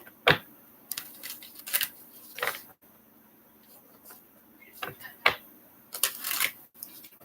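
Tarot cards shuffled in several short riffling bursts, close and moderately loud, with quiet pauses between the flurries and no voices.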